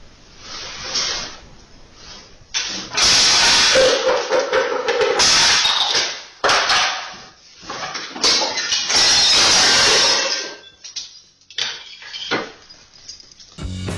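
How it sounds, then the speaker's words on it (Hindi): Clattering crashes of dishes and objects tumbling off a surface, with loud bursts of clanking and rattling interrupted by brief quieter gaps. "ये बिल्ली तो मेज पे रखे हुए बर्तन गिरा के भाग जाएगी।"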